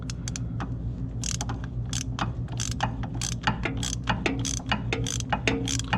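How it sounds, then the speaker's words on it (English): Angle head ratchet wrench clicking in quick irregular bursts while working a differential fill plug on a C7 Corvette, close and fairly quiet, with no talking. "So the angle head wrench is your best friend for this part of the procedure."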